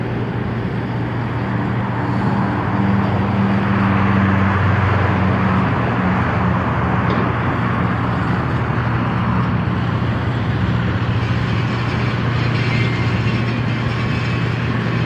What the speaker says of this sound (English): I'm seeing more trucks coming in, and I see these excavators going.